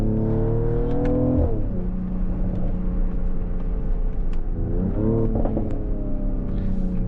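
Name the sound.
Mercedes-AMG GLE 53 Coupe loud exhaust while driving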